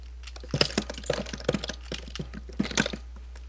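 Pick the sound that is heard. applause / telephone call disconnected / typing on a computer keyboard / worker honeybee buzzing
typing on a computer keyboard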